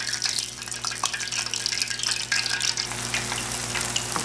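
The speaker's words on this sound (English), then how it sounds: "you want to fry them properly so that inside the mushrooms cook." Mushrooms sizzle steadily in hot oil for a chilli mushroom dish, a close, continuous crackle and hiss with scattered pops throughout, no voices.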